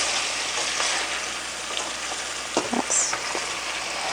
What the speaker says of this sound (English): you want to saute the onions until they're nice and translucent